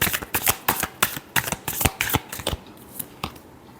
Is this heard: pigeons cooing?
no